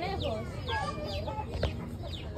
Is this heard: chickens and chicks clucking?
yes